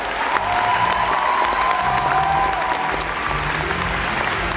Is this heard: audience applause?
yes